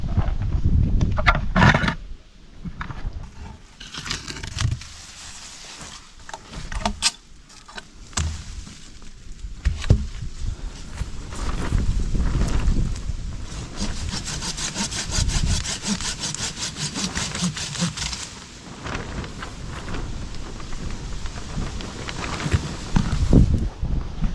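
A hand saw rasps steadily through a broken peach tree branch, rapid back-and-forth strokes running nearly the whole time, close and fairly loud, with brief pauses between bursts.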